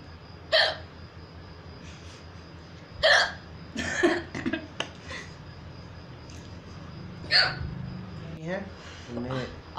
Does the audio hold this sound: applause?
no